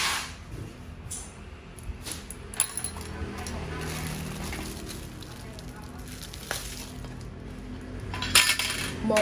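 Ceramic leaf-shaped spoons and Japanese pottery dishes clink and knock against one another in scattered, close taps beneath a steady talking voice.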